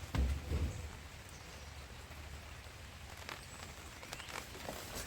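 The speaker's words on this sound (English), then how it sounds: "So it's raining out here" Light rain falling outdoors, a soft continuous patter of drops with a few sharper taps standing out, faint and steady with no voices over it.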